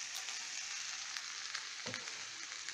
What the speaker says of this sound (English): Just as it's browning, get that lemon juice in to keep it nice and moist for meat.